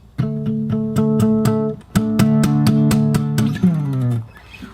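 Acoustic guitar downstrokes on the 4th string for a song, a rhythmic series of sharp strums with ringing tones and a brief pause before the second run, no talk.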